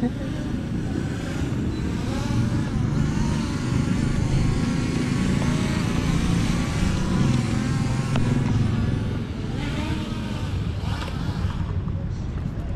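Small S101 v2 camera drone flying outdoors in strong wind, a steady buzzing motor drone holding level throughout with wind noise on the microphone, dipping slightly near the end as power is lowered.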